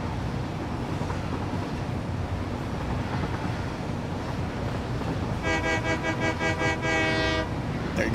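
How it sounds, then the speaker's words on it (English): Train rolling along tracks in the Satisfactory video game, a steady broadband rumble throughout, with a loud harmonic horn toot sounding near the end. "I'm kind of surprised that I can ride on top of the train with no problem."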